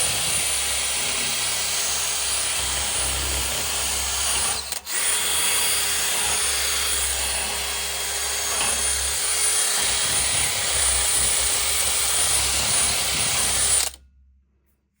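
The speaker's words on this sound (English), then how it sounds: "Put this on the end of that now, and then we'll give it a wire brushing." A power wire brush whirs steadily against a Land Rover Defender Td5 rear radius arm during a bush job, a loud continuous grinding whine with a brief dip midway, then stopping abruptly near the end.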